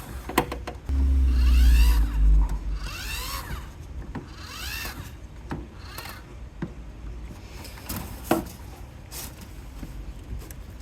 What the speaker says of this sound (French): On entend le petit moteur crinquer.